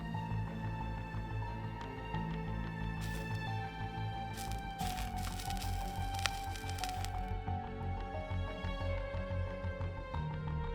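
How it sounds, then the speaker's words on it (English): Water dropped onto hot residue left from an iodine monochloride fire reaction gives a sustained sizzling and crackling hiss with scattered pops, faint and continuous for several seconds without speech. "Here I dropped some water on it."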